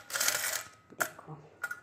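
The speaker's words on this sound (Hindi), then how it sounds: "हम इनको एक डब्बा बना रखा है और हम उसमें ही जमा करते रहते हैं ये सिक्के।" Mixed coins are handled in a household storage box, producing a bright metallic jangle followed by a couple of sharp, separate clinks, heard close up.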